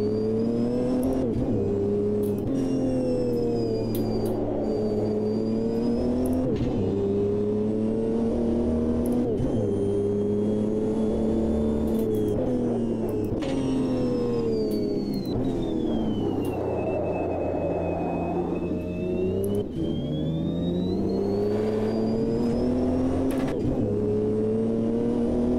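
A next-gen Moby Dick race car in Automobilista 2, driven with paddle shifters and seven gears, its engine droning loud and steady, climbing and dropping through shifts with repeated throttle swells across the run, with no voices.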